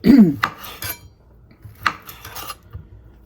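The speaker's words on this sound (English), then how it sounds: "I'm going to cut up another one. Actually, I love andouille sausage." A knife slicing andouille sausage on a board for a seafood boil gives a few sharp clinks and scrapes, with a louder thud at the start, close by and without talk.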